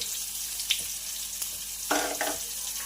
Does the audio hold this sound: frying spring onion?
yes